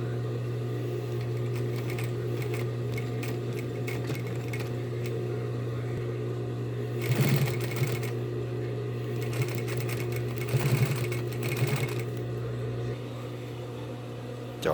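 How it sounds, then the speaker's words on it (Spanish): Straight-stitch sewing machine topstitching a folded edge on a large multipurpose bag, heard as two short bursts of steady running over a constant low motor hum, with no talk. "Ahora vamos a doblar aquí arriba para hacerle el pespunte por acá."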